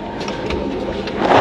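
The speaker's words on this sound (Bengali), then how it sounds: "এখন ছেড়ে দিল ট্রেনটা।" Jammu Rajdhani Express 12426, running from Jammu Tawi to New Delhi, heard from inside a coach as it starts to pull away: a brief, faint low rumble with light clicking and rattling, and no talk.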